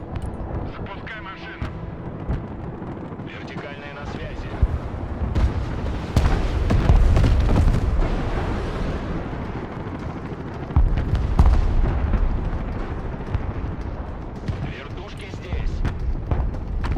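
Artillery rounds firing and exploding in the video game Broken Arrow, a dense rolling barrage of booms and rumbling blasts, loud and continuous throughout.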